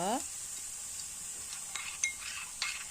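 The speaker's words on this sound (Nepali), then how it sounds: "प्याजलाई पनि एकैछिन भुट्नुपर्छ।" Onion fries quietly in oil with a steady hiss, broken by a few scattered scrapes and taps of a stirring spoon.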